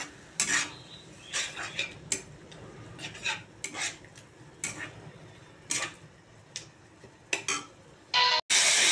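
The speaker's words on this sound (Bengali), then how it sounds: "মশলাটাকে ভালো করে কষাবো।" A spice masala cooks in a pan with scattered, irregular metallic scrapes and clinks of a spoon stirring against the pan, close by over a faint frying hiss, then a louder burst at the end.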